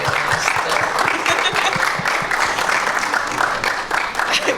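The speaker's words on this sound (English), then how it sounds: "Can we give these guys a round of applause" A room of listeners applauds after a talk at an apprenticeships festival in Manchester, producing thick, continuous clapping at close range with a few low thumps underneath.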